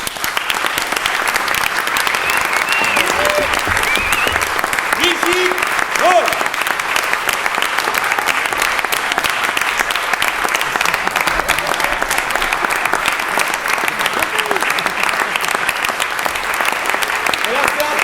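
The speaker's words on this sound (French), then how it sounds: "je vous prie de faire un tonnerre d'applaudissements pour l'accueillir" Theatre audience applause for a stage production, a long, loud and unbroken wash of clapping from a full house, with a few voices faintly audible underneath.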